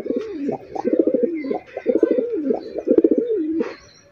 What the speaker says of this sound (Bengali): খুবই খুবই অসাধারণ একজোড়া কবুতর